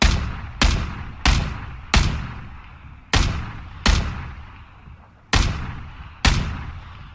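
Eight sharp video game gunshots ring out one at a time at irregular intervals, each loud crack followed by a short fading echo.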